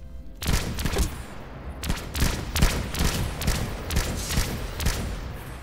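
Rapid bursts of battle rifle fire in Planetside 2 on a test server, loud and close, crackling shots repeating in clustered volleys across the whole stretch with no talk.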